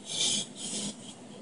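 Knife blade being sharpened on a flat sharpening stone, quiet rasping strokes, two or three longer scrapes in steady rhythm, close and alone.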